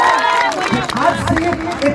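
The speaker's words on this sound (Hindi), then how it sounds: "इसके लिए ताली बजनी जरूरी चाहिए" Audience clapping and crowd murmur at a Bhojpuri event honoring artist Ankush Raja, a brief burst of mixed applause and voices, fairly close and loud.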